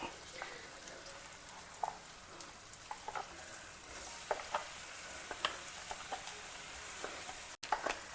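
Crushed dates and figs cook in ghee in a pan over a low flame, giving a faint, steady sizzle and frying crackle with scattered small pops.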